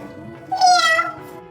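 A big fat white cat gives a single clear meow, close and fairly loud, rising and falling over about half a second above a low murmur of background noise.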